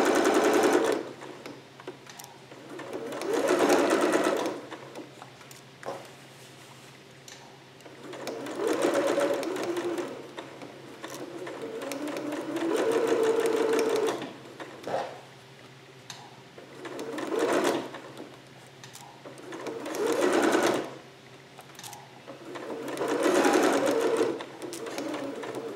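A sewing machine stitches fabric for a Vogue 8280 garment at a 5/8-inch seam with a brief back stitch, running in four or five separate bursts with quiet pauses between them, up close and with no talking.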